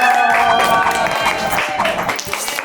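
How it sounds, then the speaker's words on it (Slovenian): A studio audience at a TV competition show bursts into loud applause, a dense, sustained wash of clapping mixed with cheering that stays strong before easing slightly toward the end. "Zdaj rabim nek bučen aplavz, ko prijem noter."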